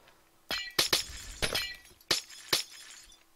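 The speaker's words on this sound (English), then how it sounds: "Oh, I love the sound of the breaking glass." Glass blocks shatter one after another in Minecraft, about six crisp, tinkling breaks in an uneven rhythm, loud and close with quiet gaps between.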